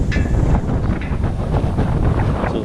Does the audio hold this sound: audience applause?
no